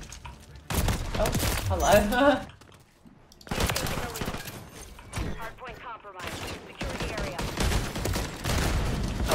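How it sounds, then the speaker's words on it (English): Shotgun fire in the video game Modern Warfare comes as heavy booming bursts separated by short gaps, loud and close, while a player talks over and between the shots. "I am shooting, guys, it's just not doing it."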